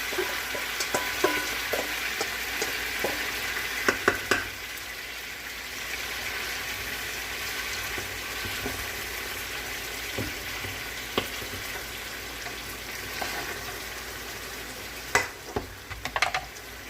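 Salisbury steak frying with gravy in a pan gives a steady, close sizzle and crackle, with a few sharp clinks and scrapes from stirring scattered throughout and no voices.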